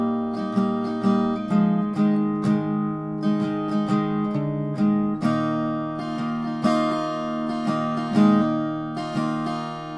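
Acoustic guitar plays the intro of a song, steady strummed and picked chords ringing close and clear, rhythmic strokes continuing alone without any voice.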